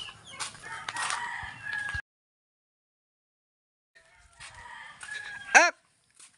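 Chickens cluck and rustle for a couple of seconds, then a pause, then more fowl sounds ending in a short, loud crow-like call nearby.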